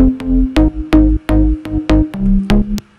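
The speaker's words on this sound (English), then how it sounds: "this is what the bass sounds like altogether." Deep house bass with sidechain ducking and saturation pulses in short, punchy notes with gaps between them, around eight loud hits with a rhythmic pumping swell and no talking.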